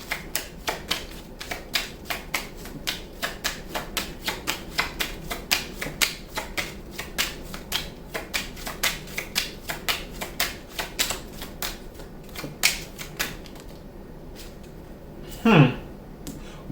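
Tarot cards are shuffled by hand, a run of quick, light taps and slaps in an uneven but steady rhythm, close by, ending in a brief louder rustle.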